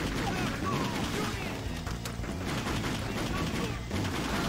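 Gunfire and explosions in the open-world action game Just Cause, dense and continuous bursts of shots and booms under a busy game soundtrack, with a voice speaking over it.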